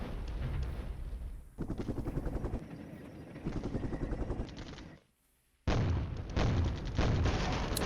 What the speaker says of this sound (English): there's some good mortar action